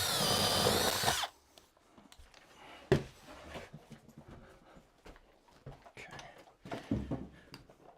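A power tool cuts a drain hole in a bathtub during a tub install, a loud whining burst for about a second, then scattered knocks, scrapes and handling noises nearby.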